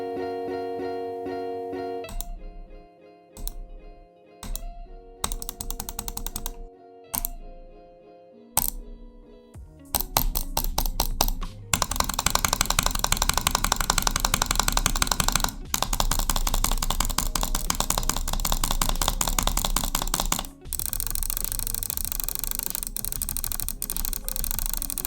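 A Glorious Model I gaming mouse clicking: sparse separate clicks at first, then long stretches of rapid, dense drag-clicking that stay loud and close with no one talking.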